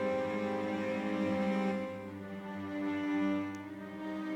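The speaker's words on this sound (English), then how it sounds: "A Blisco cello, also from Felt Instruments." Unprocessed Blisco cello, a virtual instrument from Felt Instruments, holds a soft, sustained bowed tone with a rich stack of steady harmonics, fairly quiet and alone, swelling gently midway.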